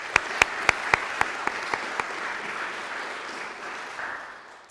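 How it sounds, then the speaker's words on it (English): An audience applauds at a Riverside County Probation Department swearing-in ceremony for chief deputy probation officers, with a few sharp individual claps up front over steady clapping that slowly fades out. "Let's give Daniel and Rudy another round of applause."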